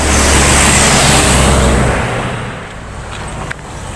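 A Mitsubishi Fuso Fighter X truck struggles up a steep climb, its engine a loud, close, steady roar that eases slightly partway through.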